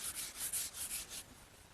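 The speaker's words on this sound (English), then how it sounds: "this 320 grit wet dry sandpaper is the perfect choice for sanding between coats" Fine 320 grit wet/dry sandpaper rubbing over a dried clear finish between coats on a wooden chest, close and quiet, about seven short rhythmic back-and-forth strokes.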